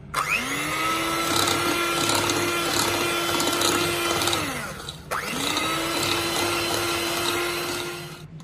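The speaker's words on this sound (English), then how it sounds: "Now take your beater and beat this until it's light and fluffy." An electric hand beater whirs loudly and continuously as it creams butter with brown and white sugar for cupcakes, its motor pitch dipping briefly midway before spinning back up.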